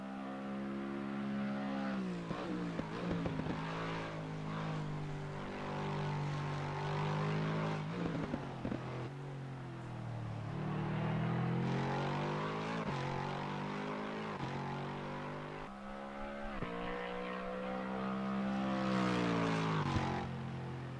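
A Lexus RC F GT3 race car in Assetto Corsa Competizione lapping Circuit Paul Ricard, its engine climbing and falling through rising revs and gear changes, loud and close from start to end with no talk.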